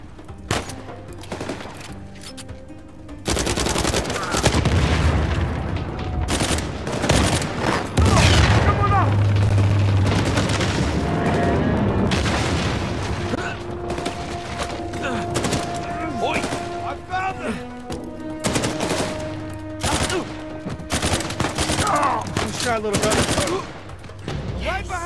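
Gunfire and explosions from the Uncharted 4 video game, with rapid bursts of automatic fire, single shots and heavy booms sounding throughout a noisy firefight, with a voice talking over parts of it.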